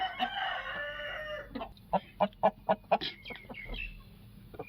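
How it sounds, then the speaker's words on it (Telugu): A Kakinemali rooster crows loudly up close, a long drawn-out call followed by a burst of short clucking notes. "ఇది వచ్చేసి కాకినెమలి పుంజు అండి"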